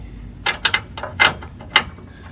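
Short bursts of metallic ratcheting clicks come from a tow hitch spacer being bolted onto a 2005-2015 Toyota Tacoma standard cab, close by, with no voices.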